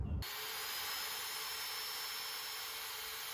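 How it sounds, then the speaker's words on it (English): A power drill bores a hole through the handle of a vintage garden tool, a loud, steady, broadband grinding whir that starts abruptly and holds unbroken for about three seconds, close up with no talking. "we're going to actually drill a hole through the handle itself"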